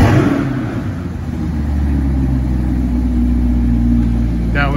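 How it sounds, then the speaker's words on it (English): A 2021 Chevrolet Corvette Stingray 2LT coupe engine rumbling loudly and steadily up close, a deep continuous idle with some revving, with a voice briefly audible near the end. "you'll be able to hear the beautiful sound as it starts up"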